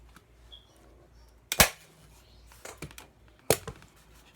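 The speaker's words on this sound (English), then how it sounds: "take the staple gun and one right there" Staple gun driving staples through fabric into a plywood ironing board, two sharp snapping clacks spaced about two seconds apart, close and loud, with faint handling rustle between them.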